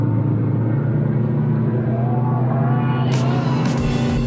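A Porsche 944 from the 1980s driving along, its engine a steady, fairly loud rumble with a faint rising tone midway and a couple of brief bright noise bursts near the end.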